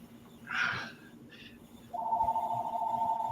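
A phone rings on a talk show set, a steady electronic tone coming in partway through after a brief burst of sound, moderately loud and continuing without talk over it.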